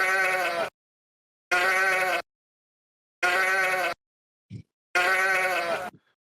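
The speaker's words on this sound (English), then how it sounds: "we are going to hear a series of sheep" Four separate sheep bleats ring out loud and close, each a wavering, drawn-out cry with a clean silence between, plus a brief low thump near the end.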